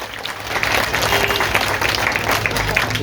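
Crowd applause at a large outdoor Ambedkar Jayanti celebration in Jahangir Puri, a steady, dense wash of clapping filling the whole stretch with a low hum beneath it.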